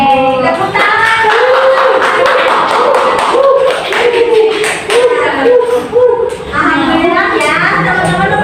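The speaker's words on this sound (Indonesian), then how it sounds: "Tepuk tangan." Students in a classroom clap together, quick overlapping claps and taps mixed with voices and chatter, loud and close, with speech running over the clapping.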